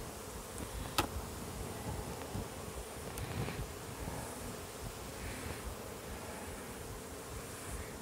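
Honeybees hum steadily around an open hive during a sugar shake mite inspection, a soft continuous drone with one or two sharp knocks near the start.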